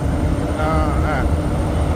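A rescue helicopter hovers during a ship rescue drill at sea, a loud, continuous roar of rotor and engine noise filling the scene, with a faint voice barely audible beneath it.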